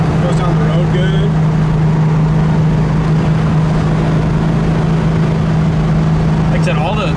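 A steady, loud engine drone with a strong low hum runs throughout as a 1966 Ford Mustang convertible cruises along the road, with faint voices underneath.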